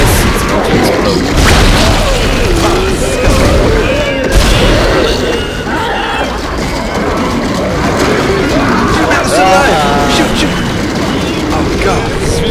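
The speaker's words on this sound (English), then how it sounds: "when I shoot this, it's going to explode" Booming blasts and crashing impacts from the sci-fi horror game Dead Space, mixed with gunfire and mechanical clatter, rumble loudly over a long stretch while people talk excitedly over the action.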